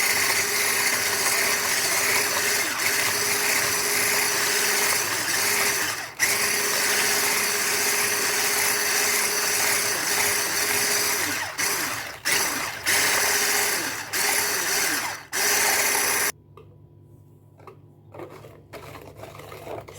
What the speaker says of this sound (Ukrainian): Зараз ми беремо яйця і нам треба збити разом з сахаром, щоб у нас розтворився сахар